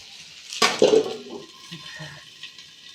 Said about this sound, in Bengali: অনেক বাসন আছে দেখবে, কত বাসন, এগুলো সব আমাকে ধুতে হবে এখন